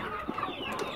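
A chicken on a small farm gives a few quick, close clucks in about a second, over faint background noise.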